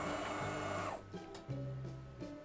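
An espresso machine runs after its heating element was replaced, its pump giving a loud, buzzing hum for about a second before cutting out, then returning in short, droning bursts with pauses between them.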